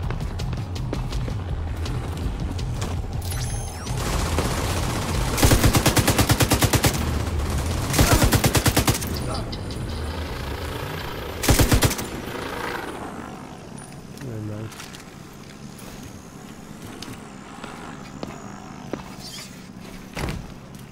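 Heavy automatic turret gunfire in The Division 2, loud dense bursts around the middle with a sharp burst later, amid game noise and a voice talking over it.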